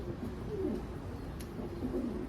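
Soft, low cooing of pigeons repeating a few times over a constant background hum, fairly faint.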